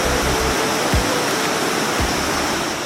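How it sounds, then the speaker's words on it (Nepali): A river rushing below dense forest along the hiking trail from Budhanilkantha to Sundarijal gives a steady, loud broadband roar of flowing water, with a couple of brief low thumps near the microphone. "डेन्स फरेस्ट तल बगिरहेको नदी"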